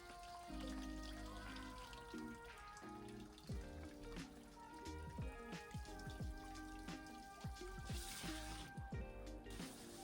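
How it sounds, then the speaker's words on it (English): Water flushing out through a cold plunge chiller's pipes during a deep cleaning, a steady splashing and pattering stream with dripping tones, fairly close and continuous throughout. "And I'm just making sure water comes out."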